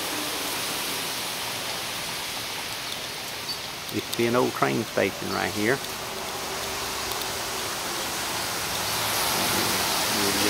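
Steady rain hisses continuously throughout, with someone briefly speaking over it midway.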